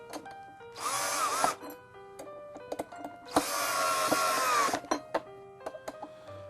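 Cordless power drill backing screws out of a Thrustmaster RGT racing wheel: two loud whirring bursts, the second longer, separated by small clicks and taps of handling the wheel and screws.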